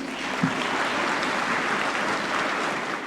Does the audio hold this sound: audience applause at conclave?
yes